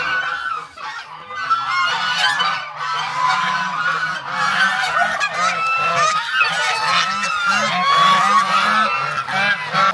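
Domestic ducks giving loud, close, repeated honking quacks in overlapping bursts, with several birds calling one over another continuously.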